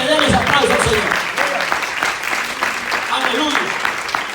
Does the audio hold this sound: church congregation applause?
yes